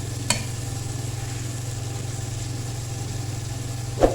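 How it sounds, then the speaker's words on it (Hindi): Egg fried rice is stir-fried in a pan over a low, steady burner hum, with a soft sizzle and two sharp utensil clanks near the start and end. "थोड़ा सा इसको भूनेंगे।"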